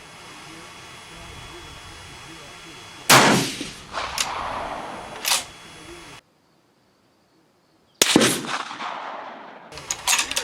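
A rifle firing reloaded 7.5x55 Swiss cartridges outdoors, with one loud shot and its rolling echo near the middle, then another blast near the end, with other shots or gunfire audible in the background.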